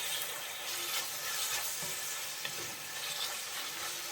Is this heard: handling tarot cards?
no